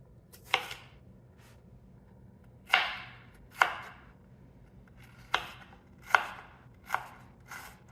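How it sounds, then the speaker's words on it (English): An onion being chopped with a knife on a board, six or seven sharp, separate cuts at an uneven pace, close and clear over a low background hum, with no talking. "It's just cutting up the onion."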